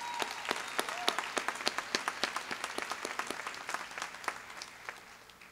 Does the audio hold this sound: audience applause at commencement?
yes